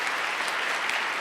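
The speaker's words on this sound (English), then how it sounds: "a round of applause for our keynote speaker." Steady applause from a conference audience at a diversity forum keynote, dense and even clapping that fills the whole moment without voices on top.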